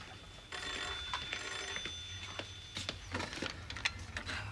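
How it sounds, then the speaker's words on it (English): An old-style telephone rings in a domestic interior, its bell sounding in repeated bursts at moderate volume over quiet room noise and light handling sounds, with no talking. "The phone's ringing."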